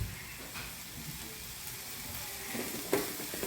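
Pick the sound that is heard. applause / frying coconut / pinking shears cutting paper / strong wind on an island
frying coconut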